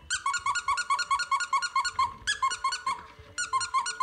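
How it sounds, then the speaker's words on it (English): A seven-week-old F3 Mini Goldendoodle puppy barking: a long series of high, squeaky yaps in quick, rhythmic bursts, close and loud, with a brief pause before the barking resumes. "Why are you barking?"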